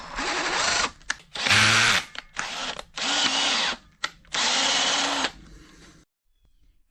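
A power drill running a tap to cut threads in a hole drilled in steel, several bursts of whining motor separated by short pauses and clicks, close and loud, stopping near the end.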